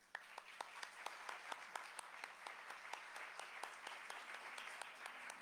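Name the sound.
audience applause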